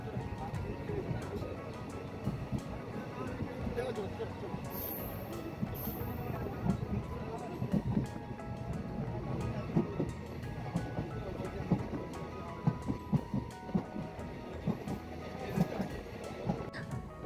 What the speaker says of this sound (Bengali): এখন আমাদের ট্রেন বহরমপুর স্টেশন ছেড়ে এগিয়ে চলেছে নিজের গন্তব্যের দিকে